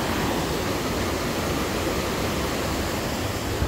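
A river near Dharan, Nepal, rushes in a steady, dense wash of flowing water that runs evenly and fairly loud for the whole stretch, with no voices on top.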